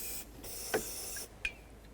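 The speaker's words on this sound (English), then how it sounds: "Let's spray those with some penetrant." Short bursts of hissing spray from an aerosol can of penetrant onto side mirror mounting nuts of a Chevy C/K truck, a few quick puffs with brief clicks, close and fairly quiet.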